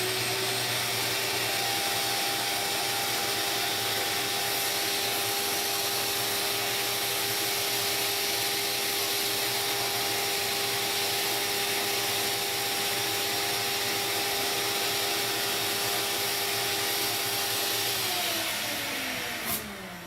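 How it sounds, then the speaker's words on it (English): A vacuum runs continuously, compressing a foam seat cushion under plastic for a 40/20/40 driver seat on a 2001-07 Ford F-250/350 extended cab, a loud steady whine with tonal hum that shifts pitch and cuts off at the end. "So we're gonna turn this on, smash it in, put the cover on it, kill the vacuum, pops back into place."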